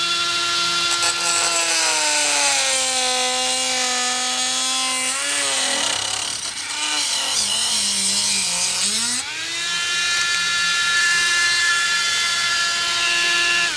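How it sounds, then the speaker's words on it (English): A cut-off wheel slices through a fiberglass motorcycle windscreen on a Yamaha FZR restoration, a loud, steady high-pitched whine that dips in pitch as it bites, pauses briefly mid-cut, then resumes at full speed. "There's just an ordinary cut-off wheel. This seems to work fine for cutting any fiberglass."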